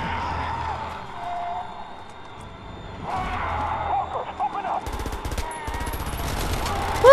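Gunfire crackles in the video game Prototype as zombies are shot, bursts of rapid shots building in the second half over game sounds, with a person talking now and then.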